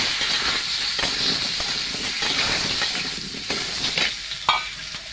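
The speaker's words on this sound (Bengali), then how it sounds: "খিচুড়ির জন্য কুমড়ো আলু ভাজা হয়ে গেছে" Potato and pumpkin pieces for khichdi fry in a pan with a steady hissing sizzle, with a few spatula scrapes and clinks toward the end.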